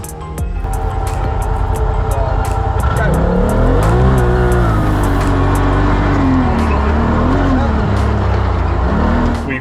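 A Polaris race car engine revs hard and loud, rising and falling in pitch as it accelerates and holds high revs, with no pause in the roar.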